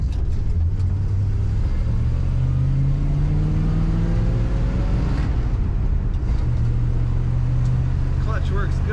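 A 1955 Chevrolet Bel Air two-door hardtop with a three-speed column-shift manual transmission cruises on the highway, its low engine drone and road rumble steady throughout, with faint rising pitch as it shifts and accelerates.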